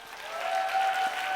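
A church youth-service congregation applauds warmly, the dense, steady clapping swelling slightly and holding for the whole moment at moderate distance.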